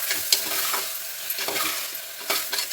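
Brinjal and tomato pieces stirred in sizzling oil in a pan, with steady frying hiss punctuated by several scraping stirs of a spoon, close and moderately loud, no voices.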